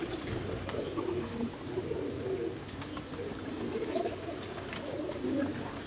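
White Bar pigeons, an expensive breed kept in Pakistan, coo softly in low repeated phrases, overlapping one another against a faint background hiss.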